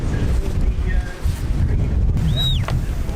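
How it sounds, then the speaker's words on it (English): Strong wind at a kitesurfing spot, loud blustery buffeting across the microphone throughout, with a faint whistling tone briefly rising above the roar. "it is windy. It's good. The wind just picked up."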